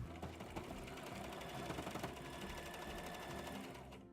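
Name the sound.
sewing machine sewing dress top onto skirt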